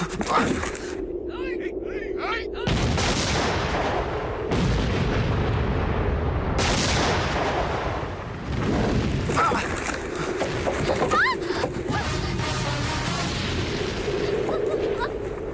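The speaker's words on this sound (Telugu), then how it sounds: "ఇప్పుడు బాంబులయ్యండ్రా." Bomb blasts tear through a comedic battle scene in the Telugu film Sainikudu: a run of loud, rumbling booms and crashes, one after another, with voices shouting over the chaos.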